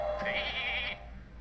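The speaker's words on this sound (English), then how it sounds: "There's a sheep." A single drawn-out sheep bleat from the Hearthstone card game rings out clearly for about a second, then fades, with no talking over it.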